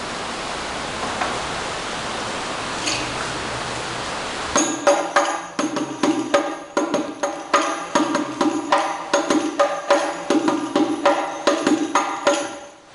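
Hadroh frame drums in the kerinci basic stroke pattern, entering after several seconds of hiss with a brisk, repeating run of crisp slaps and low thumps, close and clear.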